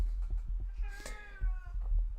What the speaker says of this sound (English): My cat is crying to get out.